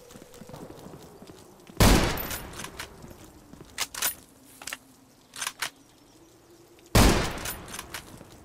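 Gunfire from the video game Zero Sievert: two loud, sharp shots about five seconds apart, with a few softer clicks and thuds between them over a quiet hum.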